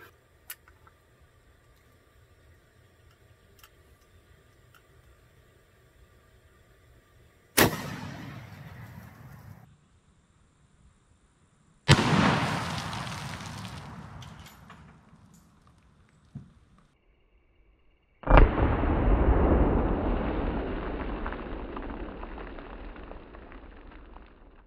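Marlin 336 lever-action rifle firing Remington 170 grain Core Lokt rounds outdoors at targets, three sharp loud gunshots each with a decaying tail, plus a smaller click between, no talking.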